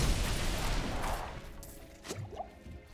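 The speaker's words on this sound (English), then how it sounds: "that explosion is so loud" An explosion in Diablo IV bursts at the start as a dense, crashing blast, then breaks into scattered debris-like cracks and whooshes that fade over a few seconds, with no voices.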